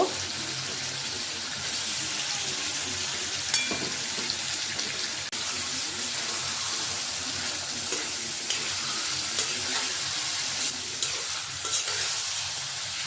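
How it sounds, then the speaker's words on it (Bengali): Shing fish being sautéed in thick spice masala, with a continuous close sizzle and frequent spoon scrapes and stirs against the pan. "মশলাটা আমার অনেকটাই কষানো হয়েছে আমি এর সাথে মাছটা একটু কষাই নেব"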